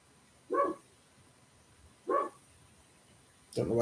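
A dog barks twice in single sharp woofs about a second and a half apart, indoors at moderate distance, followed by a louder, fuller burst of barking right at the end against a quiet background.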